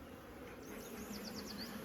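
Honeybees buzz near the hive during queen catching, a soft, close, wavering hum with a few brief rising whines as individual bees pass.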